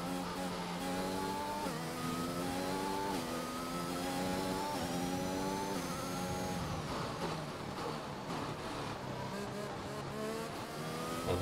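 Formula 1 race car engines in the F1 2021 video game at the Spanish Grand Prix, a sustained layered whine with several cars' tones rising and falling together, loud and continuous throughout.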